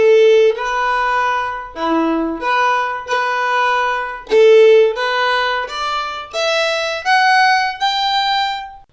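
A solo fiddle plays a phrase of Cooley's Reel, a string of clear, separate bowed notes in a steady reel rhythm, close and loud with no talking.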